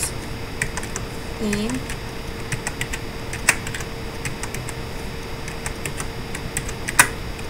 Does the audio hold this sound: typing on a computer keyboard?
yes